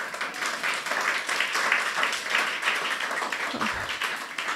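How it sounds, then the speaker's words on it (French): A church congregation gives subdued, timid applause, a thin, continuous patter of scattered clapping at modest volume. "Vos applaudissements sont timides"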